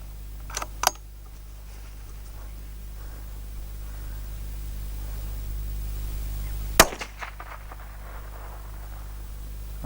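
Two sharp reports from a CZ455 .22 rifle crack out, a quick pair near the start and a single shot later, each loud and brief over quiet outdoor hiss.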